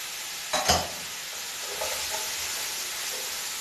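Onions, leek and garlic go into preheated oil in a pan, producing a steady frying sizzle with a brief stirring clatter near the start, then a soft, continuous hiss.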